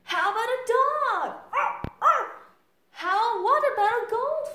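A voice imitates a dog, giving a run of expressive, whiny barks and yips in two bursts separated by a short pause.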